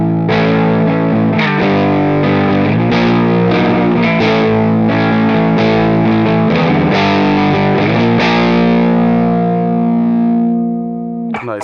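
Distorted electric guitar through an Orange Crush Mini amp and OX Box plays a run of strummed chords and riffs with a classic rock tone, then lets the last chord ring out. No voices are heard.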